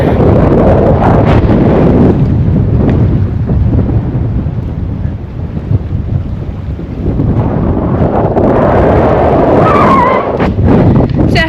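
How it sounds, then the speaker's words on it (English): Strong wind roars and buffets steadily against the microphone at a boat anchorage off Lizard Island for the whole stretch, loud and continuous, with gusts swelling and easing. "It is really windy, as you can tell"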